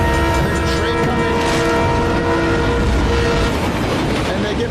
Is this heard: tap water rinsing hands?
no